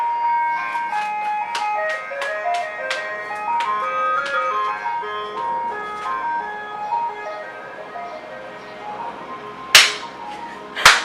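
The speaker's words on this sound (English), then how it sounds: "ice cream truck" An ice cream truck plays its chiming melody in a neighbourhood, a tinkling tune of repeated bell-like notes at moderate distance that fades toward the end before two sharp knocks.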